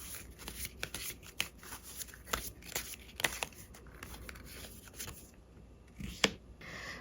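Tarot cards shuffled and drawn by hand, a run of quick papery riffles and soft flicks with sharper snaps near the end, close and fairly quiet, with no voice.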